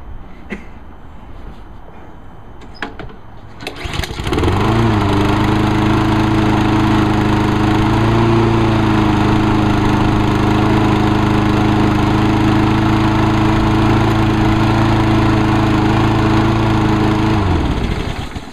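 Lawn mower engine after a professional carburetor cleaning, starting up after a few seconds of quiet handling sounds, then running loud and steady close by, a sustained buzzing drone that cuts off near the end.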